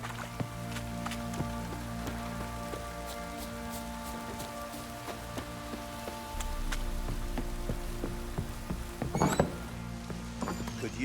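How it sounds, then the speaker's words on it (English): Steady heavy rain patters over a village scene in The Witcher 3: Wild Hunt, a constant wash of drops beneath low sustained game music and a few sharp knocks. "Heavy rains, dark clouds."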